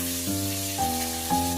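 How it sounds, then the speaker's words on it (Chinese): Pork slices stir-frying in a little oil in a wok give a steady, soft sizzle that runs under continuous background music with sustained tones. "然后锅中留少许底油，下入猪肉片翻炒"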